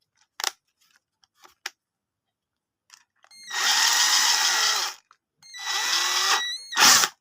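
A cheap 12V DC rechargeable cordless drill-screwdriver spins up in two bursts of high motor whine, each about a second or so, preceded by small clicks and handling taps.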